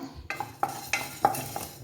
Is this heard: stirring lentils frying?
yes